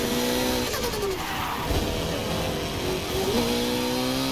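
A Lamborghini in a racing video game revs and accelerates, its engine tone climbing and shifting pitch in steady sweeps, loud and close.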